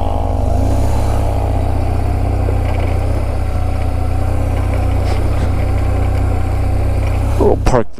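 A BMW R 1150 GSA motorcycle engine idles steadily up close with a low, even rumble, and a brief clatter sounds near the end.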